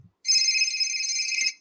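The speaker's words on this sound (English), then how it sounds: "I got a phone call." An incoming-call phone ringtone plays as a single clear electronic trill lasting about a second, close and loud, with no talking over it.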